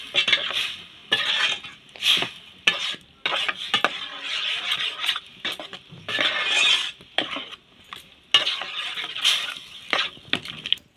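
A spoon stirs drumstick (moringa) leaf dal in a metal pot, scraping and clinking against the sides in repeated strokes with brief pauses. The sound is close and steady, with no voices.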